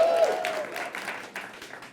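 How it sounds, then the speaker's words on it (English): An audience claps in a burst of applause that starts loud and slowly thins out over about two seconds, with faint crowd murmur underneath. "Give yourselves a round of applause."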